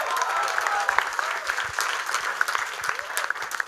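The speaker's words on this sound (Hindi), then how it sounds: "उनके लिए तालियां हो जाए" Audience applause fills the room steadily at a theatre awards event, a dense patter of many hands clapping, with a faint voice or cheer threaded underneath.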